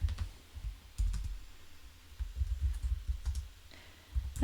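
Keys clatter on a computer keyboard as code is typed, irregular bursts of soft clicks and taps with short pauses, close and fairly quiet, no talking.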